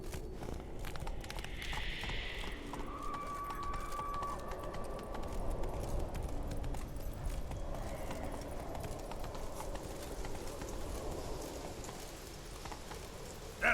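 Roach, the horse in The Witcher 3 game, with hooves clip-clopping steadily through a rainy soundscape, moderately loud and continuous under pattering rain, with a few faint incidental game sounds.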